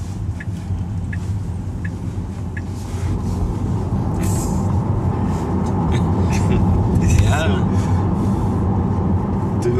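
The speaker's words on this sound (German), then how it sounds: "Die Reifen sind leider immer laut beim Model 3" A steady low rumble of tyres rolling on the road inside a moving Tesla Model 3 Performance, continuous and fairly loud, with people talking over it.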